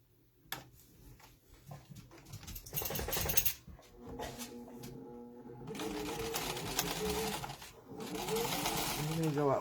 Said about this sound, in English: we're going to top stitch that edge only